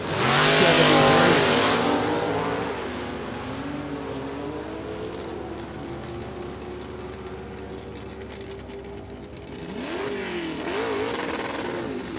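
A 1998 LT1-powered Chevrolet Camaro roars off the line at an NHRA drag strip, its loud engine climbing through gears and fading down the track, then another engine surges near the end; a brief announcer voice is heard.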